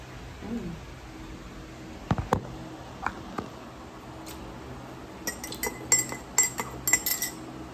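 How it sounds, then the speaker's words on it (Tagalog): Glass jars are lifted out and set down, giving scattered sharp clinks and knocks, a few early and then a quicker cluster near the end, close by against a quiet background. "pinagtatanggal ko muna yung mga garapon sa labas kasi naiinitan siya"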